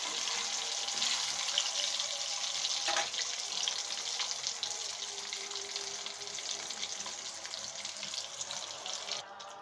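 Eggs frying in a pan of oil until lightly browned, with a continuous bright crackling sizzle, close and even in level, and occasional soft stirring scrapes.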